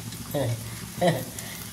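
Spiny gourd (kartoli) hits a hot onion and green chilli tempering and sizzles softly in the pan, with two brief louder bursts of frying and stirring over a low, steady hiss.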